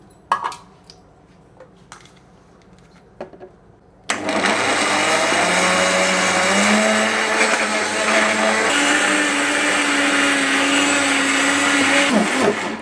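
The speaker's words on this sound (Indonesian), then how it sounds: "Kita kasih air biar gampang memblendernya teman-teman" A new electric blender runs on high, blending chopped ingredients with added water in a kitchen; the loud steady whirring motor starts abruptly after a few seconds of quiet handling noises and continues throughout, with its pitch shifting slightly as the mix churns.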